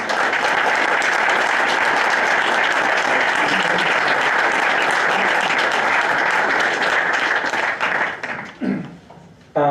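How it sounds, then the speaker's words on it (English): Loud, sustained audience applause at a school board meeting as ski team athletes and coaches are called up, a dense steady wash of many hands that tapers off near the end with a few final claps. "Nice round of applause for our..."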